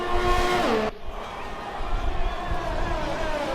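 A race car spins out in the F1 2020 game at the Russian Grand Prix, its engine whining high then dropping abruptly, followed by a lower rumble and tire noise under ongoing commentary.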